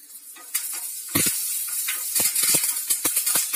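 Curry leaves sizzle in hot oil while Andhra paruppu podi is cooked: a steady close hiss with crackling pops and a few light clinks from the pan.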